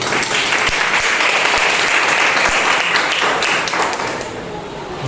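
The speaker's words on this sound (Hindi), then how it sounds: "एक जोरदार तालियां हो जाएं।" Congregation at a Sunday church service gives loud, sustained applause, dense continuous clapping that fills the hall and tapers slightly at the end.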